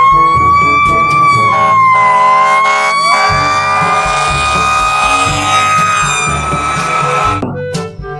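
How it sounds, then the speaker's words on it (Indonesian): A loud electronic toy fire truck siren wails continuously, rising and falling in pitch with a steady toy-like tone, ending abruptly near the end. "Yang ini ada mobil pemadam kebakaran."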